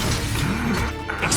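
A Confringo blasting spell strikes an enemy in the Hogwarts Legacy video game, a loud smashing crash over a dense wash of battle noise and music, lasting about a second.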